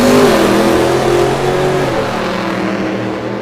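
A supercharged drag car launches at full throttle at a drag strip, its engine a loud, sustained roar that holds steady and eases slightly as it pulls away, with no talk.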